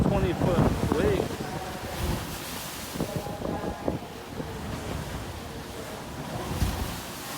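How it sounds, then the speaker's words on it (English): Large ocean waves about twenty feet high crash against the NCL Getaway cruise ship at sea, a loud, rough surge of water mixed with gusting wind noise. "That's like 20-foot waves."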